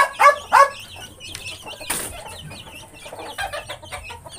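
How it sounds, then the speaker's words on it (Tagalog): Two-week-old chicks and adult chickens in a coop, a couple of loud close clucks up front followed by a busy layer of high peeping and scattered clucking throughout. "Ayan mga kamanok yung ating mga sisiw"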